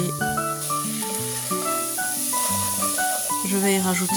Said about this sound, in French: Je le mets ensuite à cuire avec du beurre.